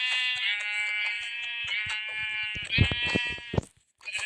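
Nasal, electronic-sounding Minecraft sheep bleats repeat continuously with soft thumping steps beneath, ending in a louder burst and a brief silence.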